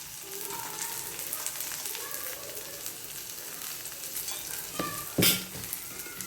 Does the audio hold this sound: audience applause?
no